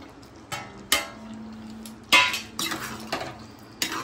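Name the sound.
stirring paneer and vegetables in a pot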